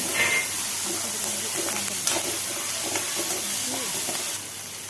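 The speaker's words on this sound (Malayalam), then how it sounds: "ഇനി ഒന്ന് ഇളക്കി ഇനി ചേർക്കേണ്ടത് കറിവേപ്പില കുറച്ച് കറിവേപ്പിലയും കൂടി ചേർത്ത് കൊടുത്ത്" Curry leaves stirred into hot oil with salt for chapati upma: a continuous moderate sizzle and hiss close by, with faint stirring scrapes and the hiss easing near the end.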